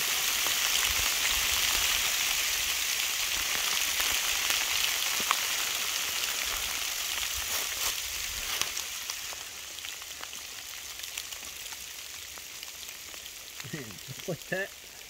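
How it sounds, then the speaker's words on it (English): Hail falls on an exposed mountain top as a steady, dense hiss of pattering ice, loud and continuous, with a few sharper knocks near the end. "You just get randomly hailed on."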